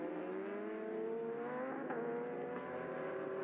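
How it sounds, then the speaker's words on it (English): Ducati racing motorcycles at the 2013 Aragon race, heard as a continuous high-revving engine whine with rising harmonics. It is fairly distant and steady throughout the short stretch. "it's Lamara this time that struggles to keep the front wheel down on his Barney Racing Ducati"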